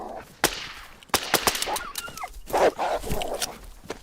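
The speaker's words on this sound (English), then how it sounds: "Oh, shit, we have dogs." Dogs attack in the survival game DayZ, with loud snarls and yelps that overlap sharp, cracking impacts that sound like gunshots, all in a tense, busy burst.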